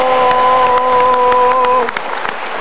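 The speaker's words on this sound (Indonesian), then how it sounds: "Kita berikan tepuk tangan dulu." Audience in a televised talk-show studio bursts into sustained, dense clapping, with a steady tone ringing beneath it before the applause thins out near the end.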